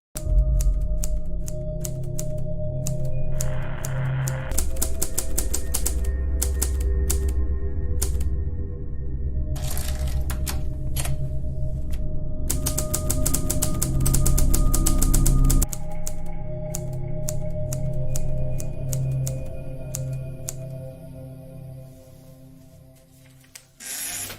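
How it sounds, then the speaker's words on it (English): A typewriter clatters in a film scene, with rapid bursts of key strikes separated by pauses and a carriage movement, close and crisp over a low background hum. "This is what's called a typewriter."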